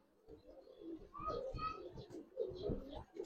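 Pigeons in a loft give several low, throaty coos in uneven bursts, fairly faint and close, with soft rustling around them.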